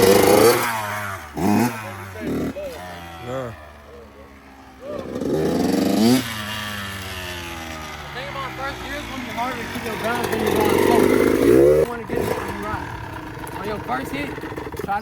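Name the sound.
Kawasaki KX112 dirt bike engine after popping the clutch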